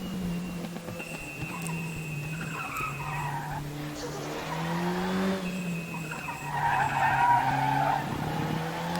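A Volvo 240T race car in the RaceRoom game skids with squealing tyres and strikes a wall, a droning engine under sliding screeches that build toward the end.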